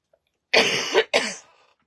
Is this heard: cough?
yes